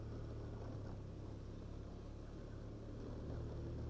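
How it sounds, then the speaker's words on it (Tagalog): Steady low engine drone and wind rumble from a motorcycle while riding on a road toward Santa Maria, Bulacan, continuous and fairly quiet with no voices. "Sabog-sabog talaga yung motor mo dito."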